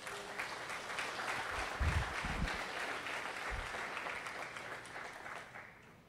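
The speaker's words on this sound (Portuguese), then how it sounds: "Aplaude o teu Deus, aplaude." A church congregation claps together during a sermon, the applause steady and moderately distant, swelling with a few louder bursts before tapering off at the end.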